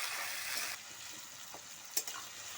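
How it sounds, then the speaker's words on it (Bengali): Chopped tomatoes fry in a pan for a chicken gravy, giving a soft steady hiss. Partway through it drops quieter, and a few brief scrapes or clatters of stirring stand out near the end. "এবার আমি দিয়ে দিচ্ছি কোচানো টমেটো দিয়েও কিছুক্ষণ ভেজে নেব"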